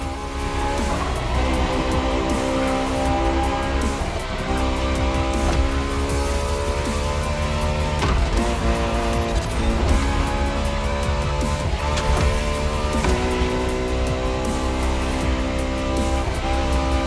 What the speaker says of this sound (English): The strongest naturally aspirated Ferrari V12 to date, marking Ferrari's first steps into hybrid technology